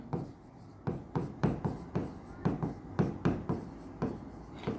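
Pen writing notes on paper during a study lesson, a steady series of short scratchy strokes roughly every third of a second, close and fairly quiet, with no talking.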